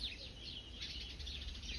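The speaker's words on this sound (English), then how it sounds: "The sparrows are really vocal today." Sparrows and starlings chirp in a garden with a pond, giving soft, scattered high tweets that run on without pause. The birds sound faint and somewhat distant over a low background rumble.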